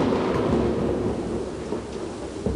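Deep, rolling thunder rumbles continuously and heavily, played as the imagined sound of an exploding star, with a faint rain-like hiss over the low roar.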